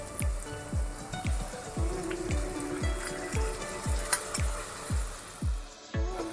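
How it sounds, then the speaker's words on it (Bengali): Spice paste for a crab curry fries in hot oil with a continuous close sizzle, punctuated by a regular series of dull low knocks from the pan throughout. "এবার আমি এই পেস্টটা দিয়ে দিলাম"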